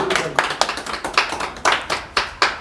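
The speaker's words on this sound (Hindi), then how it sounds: "जोरदार ताली होनी चाहिए" At an achievers' celebration, a small group claps in a few loud, close bursts of rhythmic hand claps, each burst sharp at the start then trailing off, with short gaps between them.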